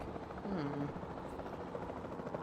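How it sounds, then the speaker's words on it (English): Capture team helicopter in the dinosaur park game Jurassic World Evolution 2, a steady rotor buzz running the whole time, moderately loud, with a brief tonal sweep near the start. "Then the sensible thing is to take a capture team helicopter."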